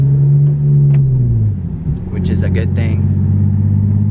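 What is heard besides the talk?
Nissan 370Z driving on road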